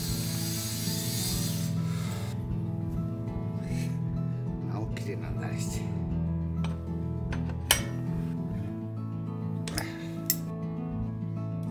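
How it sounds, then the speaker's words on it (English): A groove cutter blade is rubbed back and forth on a fine diamond whetstone in a steady close scraping rhythm with a few small metallic clinks, under a constant background hum. "I only sharpen the straight part with a fine diamond whetstone."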